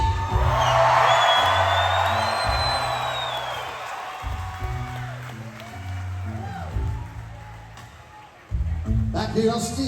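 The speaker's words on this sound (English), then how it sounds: "His name is Gary Nixon, let me hear you scream." A concert crowd screams and cheers loudly, swelling at first and then fading under booming amplified music and an announcer's voice, with a fresh surge of noise near the end.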